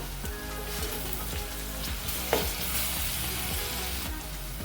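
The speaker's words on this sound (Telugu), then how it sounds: "ఇందులోకి 1/2 టీ స్పూన్ అల్లం వెల్లుల్లి పేస్ట్ వేస్తున్నాను." Ginger garlic paste sizzles and fries with onions in a pan for an arbi (taro root) masala fry, a steady close crackle with a few stirring clinks.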